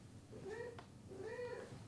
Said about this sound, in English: help my cat off me.